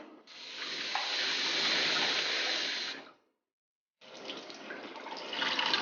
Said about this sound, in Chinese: 洗干净后加水让它泡一下